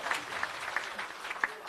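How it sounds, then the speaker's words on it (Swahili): Applause for a former MP at a Raila Odinga allies' rally in Nakuru County, faint and distant with scattered claps rising briefly near the end. "Makofi kwa former MP."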